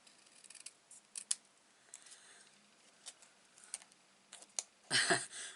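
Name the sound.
scissors trimming card stock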